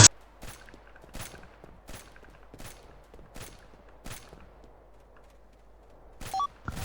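Gunshots ring out in a GTA roleplay video game, a string of about ten sharp, separate cracks at an uneven, fairly steady pace, fairly close against a quiet background, with a closer pair of shots at the end.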